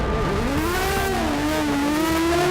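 An Aston Martin Vulcan's engine howls loudly as the car accelerates hard on an open road, a continuous rising wail with shifting pitch and no talk.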